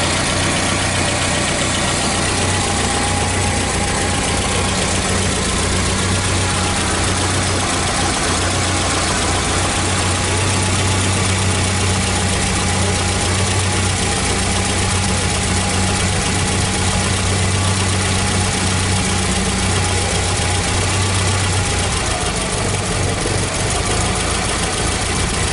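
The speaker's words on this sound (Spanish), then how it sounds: "Es un motor que apenas vibra y bastante silencioso." Aluminium-alloy engine of a 1976 Renault 17 TS cabriolet idling steadily and smoothly nearby, a continuous low hum with little vibration and no voices, lasting throughout.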